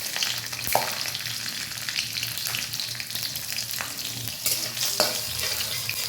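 Nigella seeds with dried and green chillies frying in a little oil make a close, even sizzle, punctuated by occasional sharp pops and the clack of a spatula stirring.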